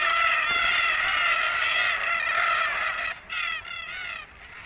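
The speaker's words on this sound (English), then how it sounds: "Red-tailed black cockatoos join in the fun." Red-tailed black cockatoos call from around a peanut field, a dense, continuous chorus of harsh, rasping screeches with many birds overlapping, loud at first, then thinning into separate bursts of squawks near the end.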